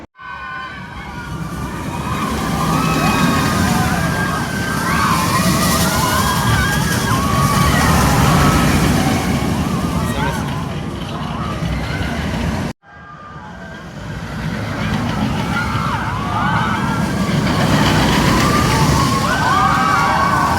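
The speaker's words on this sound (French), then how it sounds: "Alors voici le train qui est enclenché sur le lift" A roller coaster train engages the lift hill at Walibi Rhône-Alpes during Halloween season: loud, continuous mechanical roaring and clattering with shifting whining tones, broken by a brief cut and then resuming just as strongly.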